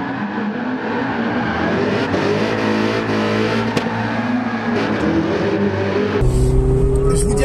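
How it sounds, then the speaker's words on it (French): An engine-swapped Mazda MX5 drifts and revs hard, the engine note climbing and falling continuously with tyre noise, loud and fairly close, with a sharper roar near the end. "je vous mets des petits passages en drift avec la MX5 Swap"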